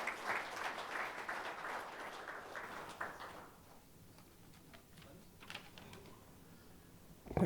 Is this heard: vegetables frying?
no